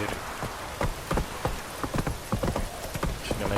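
Hooves of a horse galloping in The Witcher 3, a steady rapid clip-clop rhythm that stays close and prominent over a dense hiss of rain-like background noise.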